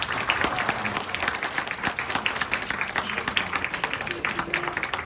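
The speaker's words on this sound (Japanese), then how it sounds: "それでは両選手に毎日の大きな拍手をお願いいたします。" A crowd at a Dragon Gate pro wrestling eve-of-event show applauds loudly and steadily, with dense, sustained clapping filling the hall and a faint voice mixed in.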